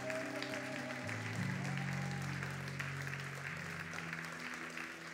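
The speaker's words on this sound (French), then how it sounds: "Est-ce qu'on peut acclamer le Seigneur?" A church congregation applauding and cheering for the Lord, a steady wash of clapping with sustained music underneath, fairly distant and moderate in level.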